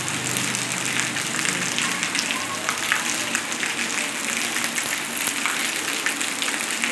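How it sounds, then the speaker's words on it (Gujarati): Heavy rain pouring steadily and without pause, a dense, even hiss of water drumming on surfaces that stays loud and close throughout. "ફૂલ વરસાદ આવે છે, વરસાદ બંધ રહેતો નહીં"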